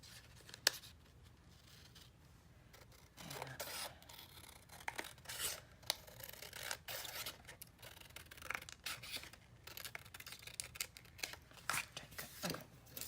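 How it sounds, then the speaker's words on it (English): Scissors cut through heavyweight inkjet paper in a long series of close, quiet snips and rasping slides, with irregular rhythm and some paper rustling. "cut it with the scissors"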